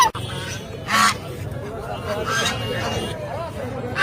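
Ducks, chickens and other poultry at a village market call in short honking bursts scattered over a busy hubbub of people talking.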